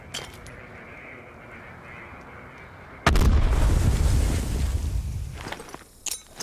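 A frag grenade goes off in Black Ops with a single sharp, loud blast after a few seconds of quiet ambience, then a heavy rumbling decay that fades, ending with a brief final knock.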